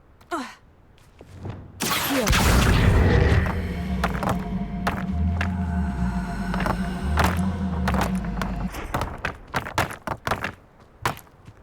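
A Bombarda blasting spell erupts in Hogwarts Legacy, a loud sudden blast followed by a long rumbling roar that slowly fades under game sounds.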